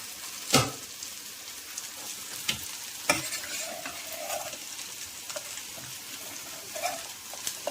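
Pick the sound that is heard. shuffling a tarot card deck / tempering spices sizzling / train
tempering spices sizzling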